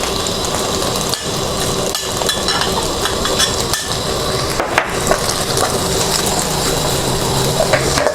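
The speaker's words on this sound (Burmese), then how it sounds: "ကြက်သွန်နီလေးထည့်ပြီးတော့ကြက်သွန်နီလေးကိုနည်းနည်းအိလောင်ကြော်ပေးပါမယ်။" Onions frying in hot oil in a pan for Shan-style fried noodles, with a steady close crackle and sizzle running the whole time and a few short clatters of utensils.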